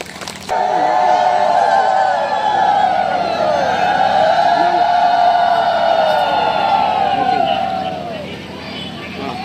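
Crowd at an election rally clapping and cheering together in a sustained burst of applause and shouting that swells and then fades near the end.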